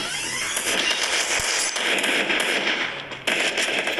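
Shotgun fire in the mobile game Free Fire, comparing the M1014 and SPAS12, as a dense, loud stream of blasts with a few brief breaks and sharp new bursts.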